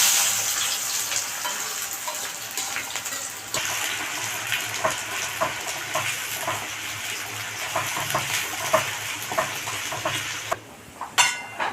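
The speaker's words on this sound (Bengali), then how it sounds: "তেল গরম হয়ে গেছে, এবার পেঁয়াজগুলোকে ভেজে নেব" Thinly sliced onions fry in hot oil for beresta, crisp fried onion for a biryani. A steady, close crackling sizzle runs throughout with scattered pops and faint stirring ticks, and no one speaks.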